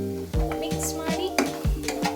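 Spices being stirred and mixed in a frying pan while cooking palak paneer rice, a few scraping strokes of a spoon against the pan under a steady tonal hum, close and moderately loud.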